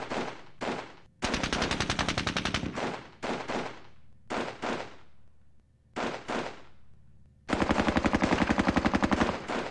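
Bursts of automatic gunfire from a John Tiller Falklands war game set during a night assault on Wireless Ridge, with defensive fire hitting incoming paratroopers. It comes as loud rapid volleys separated by short gaps and ends on a long sustained burst.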